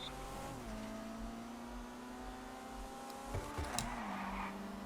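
A car drifting in GTA 5, its engine holding a steady high revving whine that dips and climbs again as it slides, with a brief tire squeal near the end and no talking.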